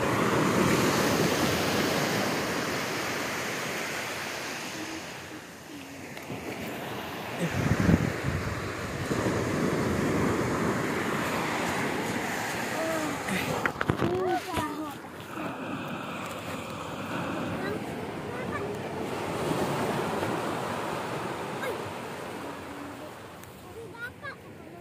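Sea waves at a beach, a steady close roar of surf mixed with buffeting wind noise on the microphone, running throughout with a louder surge partway through.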